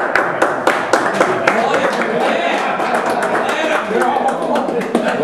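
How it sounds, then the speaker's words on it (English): Clapping from a lunch gathering in a park, with scattered sharp claps over a steady bed of crowd noise and overlapping voices, fairly loud and close throughout. "You didn't have to ask for applause."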